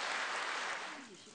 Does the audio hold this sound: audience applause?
yes